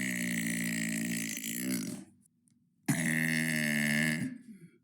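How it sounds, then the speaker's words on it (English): A person produces two long, loud, resonant burps close up, the first lasting about two seconds and the second following after a brief pause. "That was day 57 of burping for 100 days."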